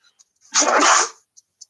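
A single sharp sneeze, close and loud, lasting about half a second, with a few faint clicks before and after.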